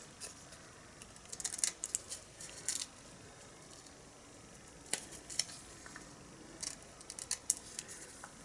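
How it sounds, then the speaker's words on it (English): Scissors snip through paper cardstock in quick, soft bursts of crisp cuts, close and fairly quiet, with short pauses between. "you're just going to use your scissors to cut off"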